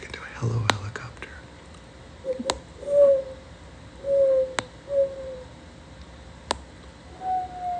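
A voice mimics owl hoots in a whispery ASMR session: four soft, steady hoots spaced across the clip, close and gentle, with a few sharp wand taps scattered between them over faint breathy whispering.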